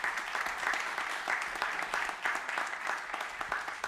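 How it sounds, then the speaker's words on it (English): Sustained audience applause at a conference event hosted at Wynn Las Vegas, a dense, steady wash of many hands clapping that swells and dips slightly over four seconds, moderately loud with no talk over it. "Give them a nice round of applause, please."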